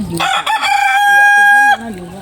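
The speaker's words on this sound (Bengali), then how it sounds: "দিদি কিন্তু অনেক মুরগি পোষে।" A rooster crows once, loud and close, at a village home where many chickens are kept, a long rising and falling call with a brief cluck before it.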